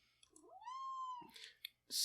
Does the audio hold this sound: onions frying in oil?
no